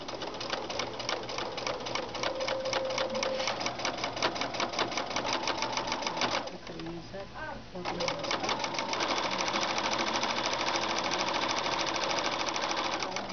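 A sewing machine fitted with a piping foot runs a straight stitch to attach piping to a garment, a steady rapid mechanical rattle that pauses briefly midway, then resumes at full pace.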